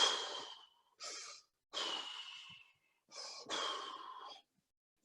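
Slow, deep breaths in and out, audible and close, repeated about five times with short pauses between them, demonstrating a breathing exercise for calming nerves.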